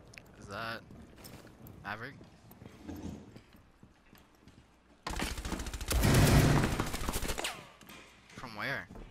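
Gunfire in Rainbow Six Siege comes as a sudden loud burst of rapid automatic shots lasting about two seconds midway, with players talking before and after it.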